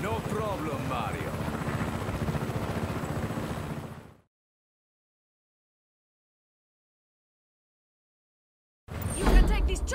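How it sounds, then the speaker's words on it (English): A helicopter in the video game Just Cause 3 whirs with dense rotor thumping for about four seconds, then cuts to silence before loud game sound returns; speech is mixed in. "You can take this chopper, Fratre."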